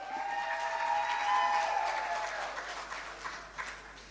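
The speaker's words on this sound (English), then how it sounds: "You want to give him a bigger round of applause?" Audience applause at a stand-up comedy show, a steady, dense wash of clapping that swells and then thins out, with a faint whistle-like cheer layered over the start.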